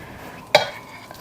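A scoop pushes out and releases a portion of homemade chicken nugget mixture, making one short, sharp click-scrape midway through an otherwise quiet moment.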